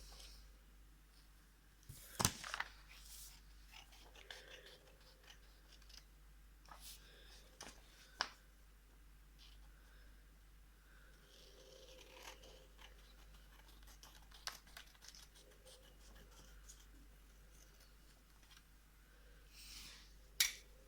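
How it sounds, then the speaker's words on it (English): Scissors snipping the white frame off a sheet of paper, faint close-up cuts and paper rustles scattered across a quiet room, with a couple of sharper snips near the start and end. "So just cut the white frame off"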